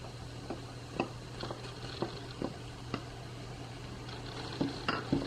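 A utensil stirring onion and garlic in a pan taps out light, irregular clinks over a steady low sizzle, close by and with no talking.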